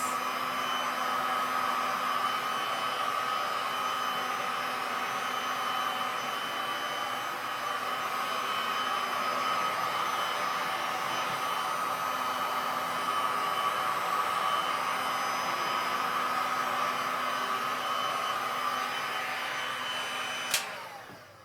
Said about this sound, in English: I'm going to heat up the wave areas.